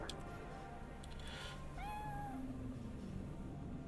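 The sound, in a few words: cat meowing in video game Cyberpunk 2077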